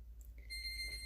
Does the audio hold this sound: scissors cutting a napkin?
no